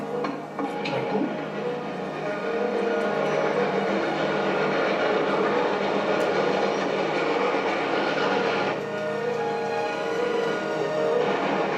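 A train crosses a lowered drawbridge with a sustained heavy rumble and rhythmic clatter of wheels on rails. The sound stays loud and continuous throughout, with no voices.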